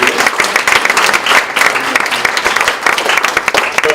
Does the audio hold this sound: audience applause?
yes